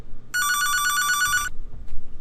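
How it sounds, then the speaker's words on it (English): A telephone bell rings once in a loud, rapid electronic trill lasting about a second, close by in a quiet room, then cuts off abruptly. "sorry about the phone ring"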